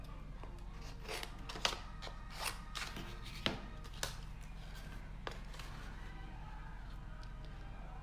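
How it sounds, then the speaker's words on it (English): Paper being trimmed for a stamped card, with a handful of soft, scattered snips and rustles spread irregularly over a quiet background hum, close and faint. "let me just trim this off here so that my punch will fit in"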